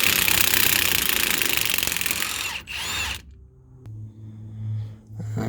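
A heavy-duty impact wrench hammers loosely at tight rear axle bolts on a Dodge Ram 2500, a loud, continuous rattling burst of a few seconds that cuts off abruptly, followed by quiet shop background.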